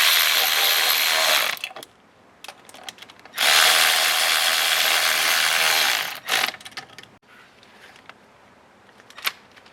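A ratchet tightening the bolts on a car's coolant thermostat housing gives two long bursts of rapid, loud clicking, with shorter clicks and pauses between them and no talk.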